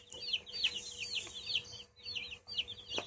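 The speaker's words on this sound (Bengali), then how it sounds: "তোমার মুরগি গুলে দেখো খাবার নাই, কিস কিস কিস কিস করছে দেখো।" Several chickens cluck and chirp in quick, overlapping bursts nearby, with short pauses between flurries and no talking.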